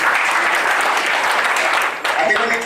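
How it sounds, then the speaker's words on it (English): An audience claps continuously and fairly loudly throughout, with a short dip near the end before the dense applause resumes. "Let's clap that for it."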